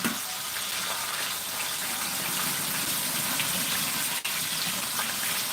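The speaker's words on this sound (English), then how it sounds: "So I'm washing my rice." Tap water gushing steadily while rice is washed in a home kitchen, a constant close rush with one brief dip near the end.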